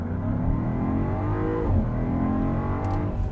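A 2025 Land Rover Defender 130 V8 accelerates in sport shifting mode, a steady loud engine roar with rising harmonics and a brief shift dip midway, heard from inside the cabin with no talk.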